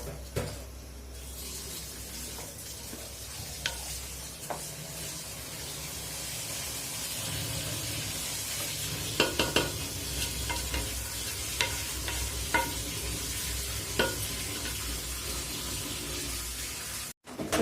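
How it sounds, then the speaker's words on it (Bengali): Hot water poured into a large pot of fried rice, 1.5 kg of rice with 3 kg of water, for pulao: a sustained hissing sizzle and watery rush with scattered clinks and scrapes, close and steady, no talking. "গরম পানি দিয়ে দিলাম"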